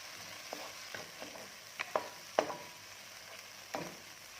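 Coconut milk goes into a simmering Thai lotus-stem curry with vegetarian mackerel and is stirred, a quiet sizzle broken by scattered soft clinks and scrapes of a utensil against the pot.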